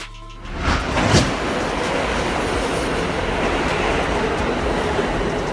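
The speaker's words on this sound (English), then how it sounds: "Subway trains, also known as metro trains, are part of rapid transit systems operating within urban areas" A subway metro train on an urban rapid transit line rumbles loudly with a steady clatter of wheels on rails, after a brief rising onset.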